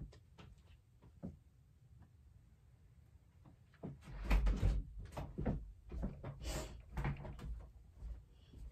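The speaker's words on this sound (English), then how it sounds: "Let me shut my door." A door is pushed shut inside a home in the early morning, giving a few close knocks and thuds after several seconds of near quiet.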